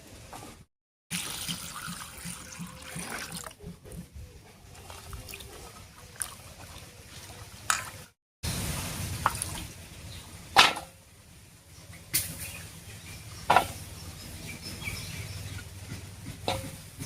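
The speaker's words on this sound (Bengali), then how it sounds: "এবারে পরিষ্কার করে ধুয়ে নেব ডাঁটা আর শাকটা।" Freshly cut dandakalas stems and leafy greens being washed in water, with irregular splashing and trickling broken by a few soft knocks and short pauses, close by and no voices.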